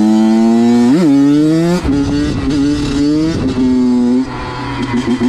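Small two-stroke Honda CR85 dirt bike engine revs hard and close, pitch rising and falling in sharp throttle blips with a buzzing, raspy tone during a wheelie attempt.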